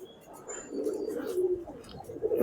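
Pigeons coo in a loft holding over 600 birds, a low, steady burbling that swells toward the end, close by and alone without talk.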